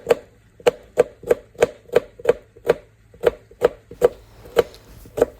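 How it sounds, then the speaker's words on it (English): Knife chopping washed okra on a cutting board, about fourteen crisp, evenly spaced cuts in a steady rhythm, close and clear with no talking. "These ones, I'm cutting them a bit more smaller because I'm not going to chop them in the blender."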